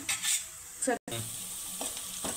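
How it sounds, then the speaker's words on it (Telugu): Green chillies and onions fry in a pan for chicken dum biryani, a close, steady sizzle with scraping stirs and a brief dropout in the middle, no talking. "పచ్చిమిర్చి, ఉల్లిపాయ ముక్కలండి. ఇది కొంచెం వేగే వరకు వేయించుకోవాలి."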